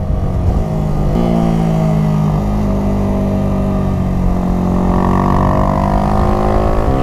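Car engine droning steadily while driving along winding mountain roads, a loud continuous hum with gear and rev shifts rising and falling throughout.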